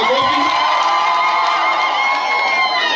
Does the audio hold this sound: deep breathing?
no